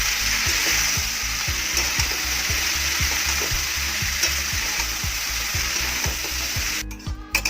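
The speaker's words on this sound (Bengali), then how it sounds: "এবারে এটাকে ভালো করে নাড়বো" Pav bhaji vegetables with spice mix sizzling in a hot pan while a spatula scrapes and knocks in a steady, rhythmic stirring pattern, close and continuous.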